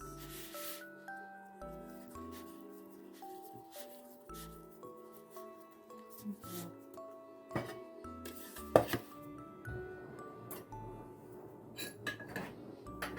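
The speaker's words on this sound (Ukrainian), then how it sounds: "І ріжу такими кусочками." A knife cuts a rolled lavash and mince roll into pieces, making soft, close, irregular thuds and scrapes on a board, with a sharper knock midway.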